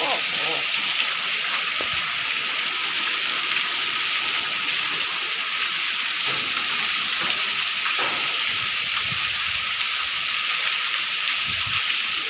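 Heavy monsoon rain pours steadily in Bhesan, a dense unbroken hiss of falling water that holds at an even level throughout, with faint voices in the background.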